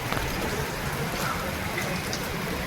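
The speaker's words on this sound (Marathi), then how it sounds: "पाऊस जोरात आहे" Heavy rain pouring outdoors, heard from under a shelter as a dense, steady broadband hiss that stays even and close throughout with no letup.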